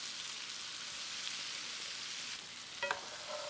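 Mushrooms and bell peppers sizzle steadily in a hot pan for chicken cacciatore, a continuous close hiss with a brief clatter of stirring near the end.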